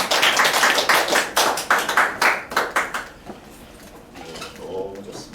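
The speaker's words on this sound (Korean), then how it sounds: "서로 다시 한번 박수로 한번 다시 축복해볼까요" A church congregation claps together during a worship service blessing, a burst of loud clustered hand claps for about three seconds that then thins out and fades.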